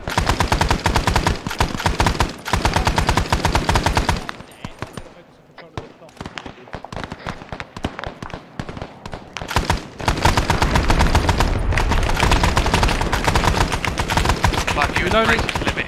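Machine gun bursts in Arma 3's Vietnam setting rattle out in dense, loud volleys, easing to scattered shots in a brief lull before heavy fire resumes; voices talk over the shooting.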